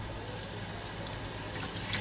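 A loofah is held under a running tap, with a steady, close, rushing splash of water that continues evenly throughout.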